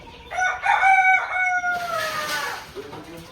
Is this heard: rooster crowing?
yes